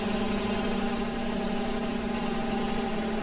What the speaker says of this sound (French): le tracteur fait peut-être un peu beaucoup de bruit